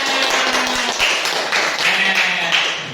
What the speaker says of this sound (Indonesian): Ya, tepuk tangan untuk kita semuanya.